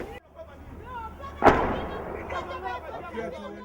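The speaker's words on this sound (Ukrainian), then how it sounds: "Прям снаряд, походу." A single artillery shell bursts sharply at a distance, with a rolling rumble trailing after it, while people talk nearby.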